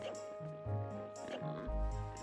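Short grunting pig oinks come from a GameCube game played on a Switch 2, repeating in bursts over game music and ambience.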